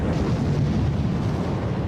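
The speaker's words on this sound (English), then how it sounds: "Nearly 200 ships bombard 50 miles of the Normandy coastline" Naval bombardment of the Normandy coastline on D-Day, 1944, rumbles as a dense, continuous roar of distant explosions and artillery fire, without pauses.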